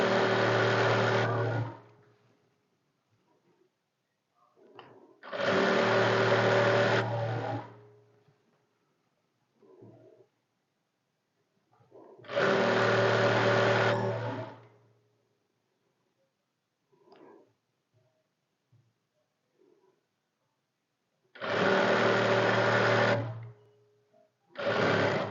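A sewing machine stitches trouser fabric in three bursts of a few seconds each. The steady mechanical whir is separated by quiet gaps with faint handling clicks.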